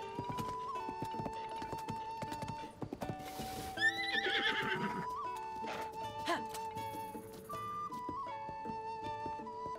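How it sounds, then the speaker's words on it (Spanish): Horse neighs and hooves clip-clop in Zelda: Tears of the Kingdom, mixed with game music tones and interface sounds; a loud whinny rises midway while steady hoof beats continue throughout. "Este caballo es tuyo, es un encanto."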